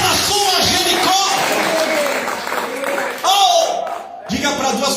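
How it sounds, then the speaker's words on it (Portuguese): A church congregation claps loudly and continuously during a service, mixed with a preacher's voice and crowd noise throughout. "bate palmas se você crê"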